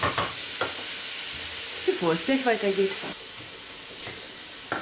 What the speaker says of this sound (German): jetzt darf ich die rote Beete auch ein bisschen anbraten